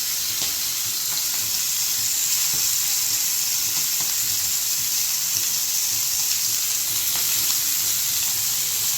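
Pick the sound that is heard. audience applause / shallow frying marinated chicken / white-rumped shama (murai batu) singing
shallow frying marinated chicken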